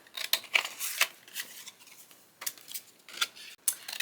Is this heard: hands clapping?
no